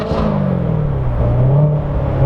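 The engine of a 2016 Chevrolet Corvette Z06 3LZ convertible roars loud and close, a steady deep rumble with a rising and falling whine as it holds high revs.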